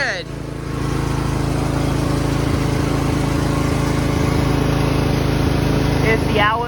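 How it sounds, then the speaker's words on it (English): A John Deere riding lawn mower engine running steadily after a cold start, a loud continuous drone with a rough low rumble that holds even from start to finish. "Let's start this baby up. Cold start, here we go."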